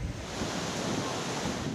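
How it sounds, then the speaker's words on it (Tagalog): Strong typhoon wind and surf from Super Typhoon Yagi making landfall in Vietnam, a steady, loud roar of gusting wind buffeting the microphone over crashing waves, continuous with no break and no voices. "Malakas na hangin ang naranasan ng mga taga-Vietnam nang maglandfall doon ang Super Typhoon Yagi kahapon."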